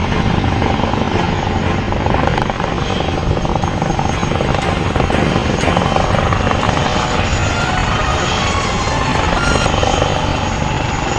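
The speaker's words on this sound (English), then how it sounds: "that completes the display by the light combat helicopter" A light combat helicopter flies past at an air show, its rotor and turbine roar loud and steady throughout with a constant thrumming pulse and no voices.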